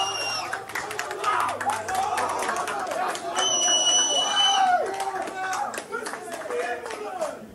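Large crowd of roughly 4000 spectators at a fight in Kiel, roaring and clapping in a dense, continuous din with shouts and chatter, people talking amid the noise.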